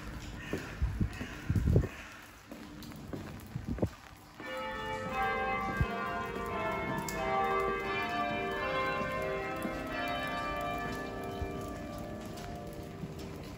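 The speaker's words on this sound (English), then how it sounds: "And you enjoyed a bit of the bells there as well." Church bells of St Mary le Bow in London ring out continuously from about four seconds in, a dense, sustained peal with overlapping tones; before that, outdoor footsteps and street noise, with crows cawing nearby.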